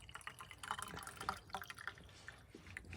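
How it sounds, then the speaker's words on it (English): Water surges and splutters through pipes in a well house as pressure builds, giving a close, steady, irregular dripping and splashing with no talk over it. "Now it's starting to break through and get some water pressure."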